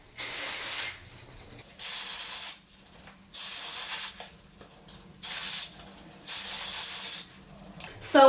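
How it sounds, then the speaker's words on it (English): Dry shampoo hisses from an aerosol can in short repeated bursts of about a second each, sprayed at the roots of short hair, with quiet gaps between sprays and a voice briefly at the very end. "So just spraying dry shampoo at the base of my hair."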